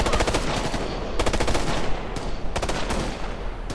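Rapid automatic gunfire from teammates in the video game Ghost Recon Future Soldier, dense overlapping bursts of loud shots with no pause throughout.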